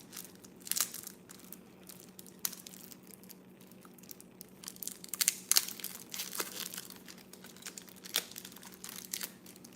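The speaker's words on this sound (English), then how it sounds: "Something about the wrapping of like a fresh game, it's just very satisfying." Plastic shrink wrap is peeled and torn off a new video game, a close series of irregular crinkles and crackling tears with louder bursts scattered throughout and no talking.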